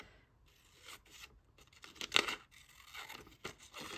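Scissors cut paper for a 12x12 collage album, giving soft, close snipping and rustling strokes in quick, irregular bursts over a quiet room.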